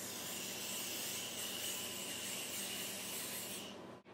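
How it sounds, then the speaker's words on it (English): Cooking spray hisses in one steady, close burst over a cookie sheet pan for several seconds, then cuts off abruptly. "and just spray this all over the pan."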